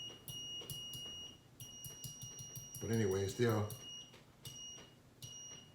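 A Southwire clamp meter's continuity buzzer gives thin, high-pitched beeps that start and stop in uneven bursts, fairly quiet, with someone briefly talking partway through.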